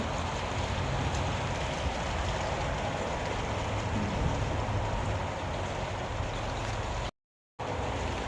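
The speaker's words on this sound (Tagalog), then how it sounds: "Siya, lakas na ng ulan." Heavy rain pouring steadily, a thick continuous wash of drops on surfaces, briefly cut out near the end before resuming.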